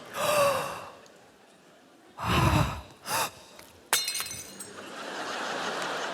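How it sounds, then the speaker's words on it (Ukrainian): A sharp crash of a plate shattering, followed by a scattered clinking tail, with breathy gasps and sighs before it. "А що ти розбила тарілку, Настя?"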